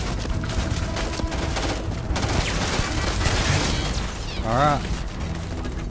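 In Starfield, steady gunfire crackles under a man's speech against a busy backdrop of combat noise, with a rising and falling whine near the end.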